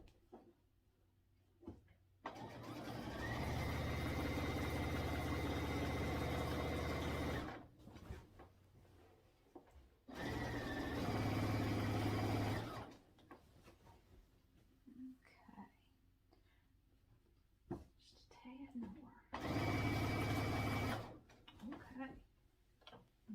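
A sewing machine stitches quilt binding in three bursts of steady mechanical whirring, each several seconds long, separated by quiet pauses with small handling clicks and soft talk.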